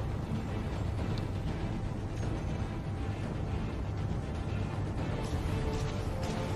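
Rockets firing in the Space Engineers game make a dense, continuous roar of blasts and rumble that holds loud and steady throughout, with no talk over it.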